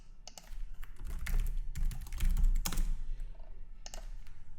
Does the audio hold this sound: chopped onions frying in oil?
no